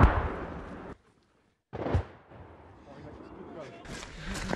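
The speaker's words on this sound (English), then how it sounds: "those Russian shells are landing about 600 meters away" Russian artillery shells land about 600 meters away, each impact a heavy booming thud with a rumbling tail. Two strong blasts come in succession amid tense outdoor background noise, and people talk nearby.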